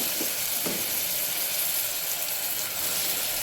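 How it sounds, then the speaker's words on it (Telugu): Tomatoes added to a frying chikkudukaya, potato and tomato gravy curry give a steady, bright sizzle with hissing steam and a couple of faint stirring knocks early on; no voices. "ఇప్పుడు ఇలా టమాటాలు యాడ్ చేసుకున్నాం."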